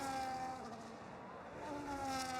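Ferrari Formula 1 car engine in a sim racing game at the Australian track, a steady high-pitched whine with tonal harmonics, loud and continuous on board with no talk.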